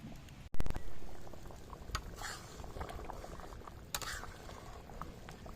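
Tomatoes boiling in a covered pot for a fish and potato ghati, a soft continuous bubbling after a sharp lid clatter at the start, with a couple of faint knocks later.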